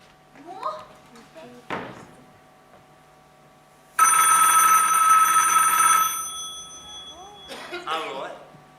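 An old-style telephone bell rings loudly and steadily for about two seconds, shrill and metallic, between bits of cartoon dialogue and voice sounds before and after.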